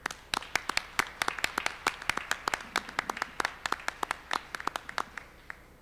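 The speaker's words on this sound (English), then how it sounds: "I'd like to ask you to actually give some applause to the individuals that came with you" An audience at a spelling bee claps for the teachers and parents, a moderate round of distinct, sharp hand claps in quick succession that fades toward the end.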